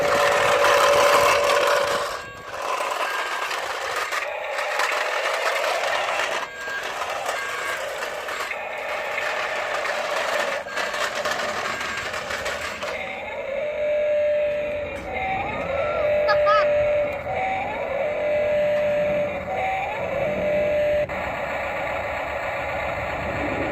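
A 1/26 scale RC Volvo A40G articulated dump truck's test button plays electronic sound effects: a steady mechanical engine-like drone followed by repeated short tonal beeps and chirps, fairly quiet, with a few voice fragments early on.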